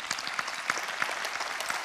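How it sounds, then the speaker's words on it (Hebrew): An audience applauds electric company workers with a brief round of scattered clapping, the individual claps distinct and fairly near, moderate in loudness with no voices over it. "אפשר למחוא להם כפיים, תאמינו לי"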